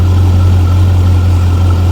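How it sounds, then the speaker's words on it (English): A loud, deep exhaust rumble from a twin-turbo C8 Corvette with a Hooker exhaust holds steady and close, a throbbing low drone with no voices and no change in pitch. "Exhaust that's between obscenely loud and a little bit louder than that."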